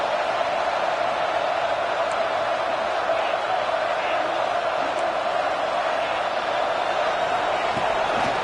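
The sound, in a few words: stadium crowd noise at a football game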